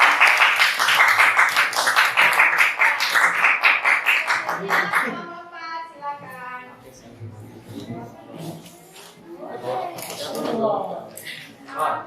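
Dense applause with rapid clapping from a crowd for several seconds, then fading into scattered claps and voices talking.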